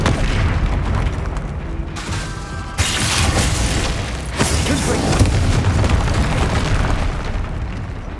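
A Confringo spell explodes in the Hogwarts Legacy video game, a loud booming burst that cuts in sharply amid ongoing battle noise, with a voice calling out during the fight.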